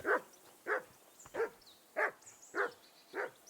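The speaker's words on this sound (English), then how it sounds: "That barking was a pain in the ass." Dog barking in the video game Kingdom Come Deliverance 2: six evenly spaced, moderately loud barks over about three seconds, with nobody talking.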